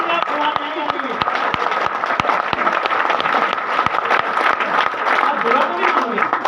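An audience in a network-marketing seminar hall claps steadily and loudly for several seconds, a dense wash of many hands with sharp individual claps standing out, and some voices mixed in.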